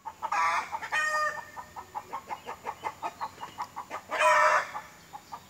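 A backyard homestead hen clucks in a steady run of short, evenly spaced calls, with a couple of louder drawn-out squawks mixed in, close and clear after laying an egg.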